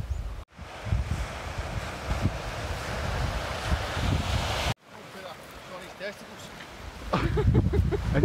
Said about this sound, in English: quite a lot of surf still coming in